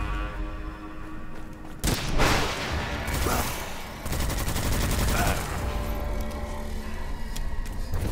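Rapid bursts of gunfire crackle and thump in the Witchfire video game, an SMG-style weapon firing in quick volleys over a dense, noisy combat background, with a few faint taps between bursts.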